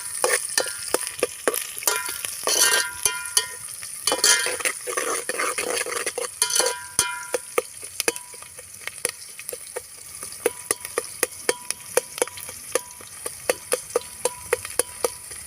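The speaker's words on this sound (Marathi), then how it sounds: "आता तेलामध्ये कांदे चांगले झाले आहे त्यामध्ये हिरवी मिरची घालूया" Onions and green chillies frying in oil in a pan on a clay stove while making besan pitla, with a steady sizzle under frequent sharp metallic scrapes and taps of a stirring spoon.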